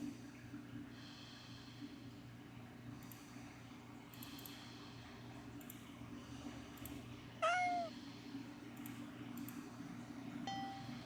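A cat meows in the video game Do Not Take The Cat Home: a few soft, faint mews, then one louder rising meow over a low steady hum, with a short chime-like tone near the end.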